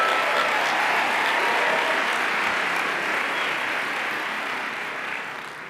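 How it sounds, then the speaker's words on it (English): A crowd at the 2022 43North finals applauds event staff, a broad, even wash of many hands clapping that holds steady and slowly fades toward the end. "Let's give her a round of applause"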